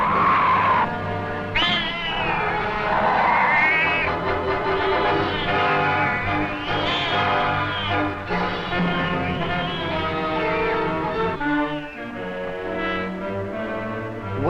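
A bobcat fighting a badger yowls and caterwauls loudly and continuously, with wavering, rising and falling wails and snarls close up.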